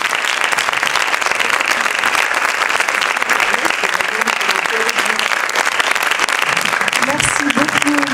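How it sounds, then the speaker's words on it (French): Loud, dense applause from a TED-style audience fills the hall after a talk, a sustained even wash of many hands clapping with a few voices murmuring near the end. "on peut applaudir"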